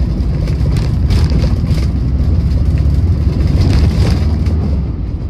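Engine of a 1965 VW Type 2 Splitscreen van, lowered at the front with an IRS rear conversion, runs loud and close in a continuous, even drone with a steady low rumble, no pauses.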